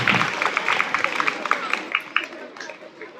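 At a school Republic Day celebration, an audience claps in scattered, uneven bursts that fade toward the end, with a murmur of voices underneath.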